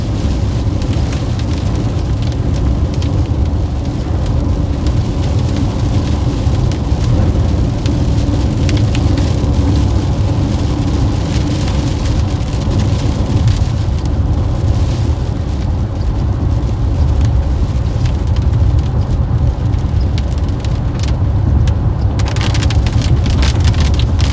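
Steady heavy rain and storm noise drumming on a vehicle while driving through the Ouachita Mountains, a loud continuous wash with deep road and engine rumble underneath, no voices.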